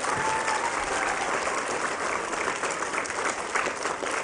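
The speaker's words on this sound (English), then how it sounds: "let's give him a round of applause" Steady, dense applause from a crowd, clapping continuously at an even level throughout without pause.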